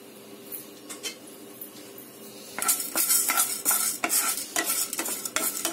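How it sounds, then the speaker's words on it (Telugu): Chana dal and urad dal drop into hot oil for a kootu masala powder. A quiet hiss holds at first, then the frying gets louder with busy crackling and repeated metallic stirring clinks against the pan. "ఆయిల్ వేడెక్కిన తర్వాత మనం పచ్చిశనగపప్పు వేసేసేద్దాము మినపప్పు కూడా మనం యాడ్ చేసేసేద్దాం"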